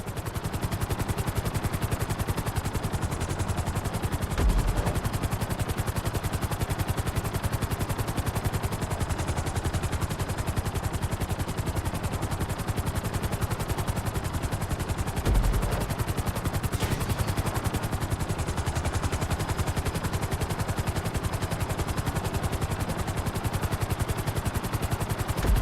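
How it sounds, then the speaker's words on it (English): A helicopter flies in Grand Theft Auto V during a flight school mission, its rotor a steady, loud, continuous thrum filling the whole stretch, with a couple of brief low thuds and no speech. "Bring the helicopter down gently onto the helipad."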